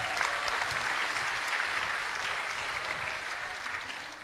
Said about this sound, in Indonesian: Boleh tepuk tangan untuk kita semua.